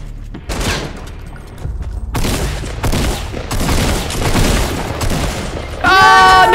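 Grenade launcher blasts in a video game, a run of loud booming explosions and gunfire bursts close together, ending in a tonal electronic whine, with no voices.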